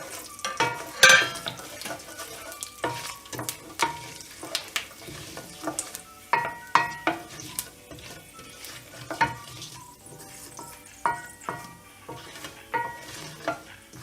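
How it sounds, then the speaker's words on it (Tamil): Mustard seeds, dried red chilies, cumin and fenugreek sizzle and crackle in hot oil for an eggplant kulambu, with a steady fry hiss punctuated by sharp pops and clinks of a spoon stirring the pan, close and clear, no talking. "எண்ணெய் காஞ்ச உடனே அதில் கடுகு, காஞ்ச மிளகா, சீரகம், வெந்தயம் இது எல்லாத்தையும் ஆட் பண்ணிடலாம்"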